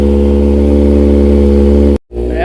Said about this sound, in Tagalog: So ganyan na po yung yung cold start niya. So firm na po yung tunog.